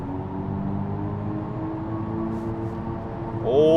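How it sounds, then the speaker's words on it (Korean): Synthetic engine sound from a Kia EV9 GT electric SUV in GT mode, a steady humming drone with layered tones inside the cabin, rising sharply in pitch at the very end as the car accelerates. "그리고 다시 키면 엔진 사운드가 돌아오고요"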